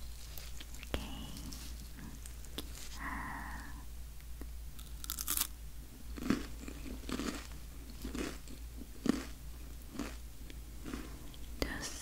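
Close crunchy bites and chewing of a green tea flavored cookie packed with green tea powder, in a quiet sweet-shop setting, with several distinct crunches spread through and soft whispered speech in between.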